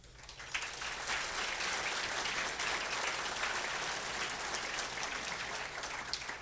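A large audience applauds a chamber of commerce event organizer at a business conference, dense steady clapping filling the room for the whole stretch without letting up.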